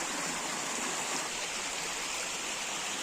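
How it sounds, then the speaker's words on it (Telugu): Rainwater runs as a small stream through dense bushes, giving a steady, close, broadband rush of flowing water that holds evenly without pause and has no voices over it. "ఆ వర్షం పడిన దాంట్లో ఈ వాటర్ అయితే పారడం అయితే చాలా బాగుంటుంది"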